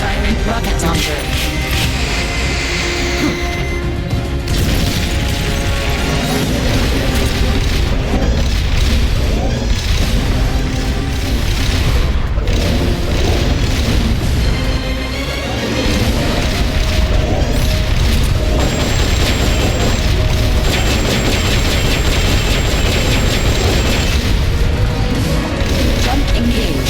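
Rockets fire in the Metal Gear Solid Peace Walker video game: a loud, sustained barrage of booming blasts and mechanical clatter that keeps rumbling for the whole stretch.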